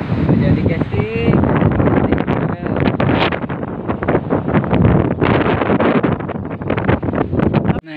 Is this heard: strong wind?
yes